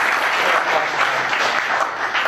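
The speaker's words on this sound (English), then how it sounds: "Bit of applause for Rohan." An audience at an evening tech meetup talk applauds a speaker being introduced, a short, steady burst of dense clapping heard close and fairly loud, without speech over it.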